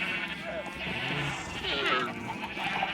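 Minecraft sheep on a server with a texture pack bleat repeatedly in short wavering calls, several overlapping, with a voice talking over them throughout.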